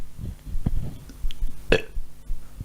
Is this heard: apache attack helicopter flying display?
no